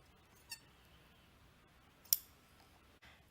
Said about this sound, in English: I'm gonna give each of these threads a little trim